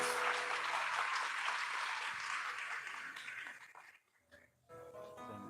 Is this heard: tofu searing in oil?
no